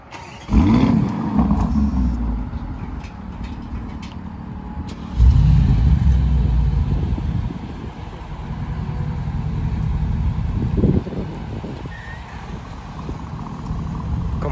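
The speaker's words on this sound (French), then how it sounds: "la prochaine séquence, ce sera le bruit des 2 voitures" Engines of a Lamborghini Urus and a Mercedes G63 AMG rumbling and revving up close, with two loud bursts of acceleration over a deep idle and a further rise near the end, no talking.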